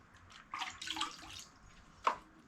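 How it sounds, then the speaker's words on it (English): Water poured into a bucket of drywall joint compound for thinning before taping, a short splashing pour followed by a single drip or plop, close and fairly quiet. "Gonna put a little water in here."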